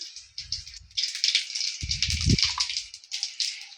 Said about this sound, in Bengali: তেলটা গরম হয়ে গেছে, একটু জিরে ফোড়ন দিয়ে দিচ্ছি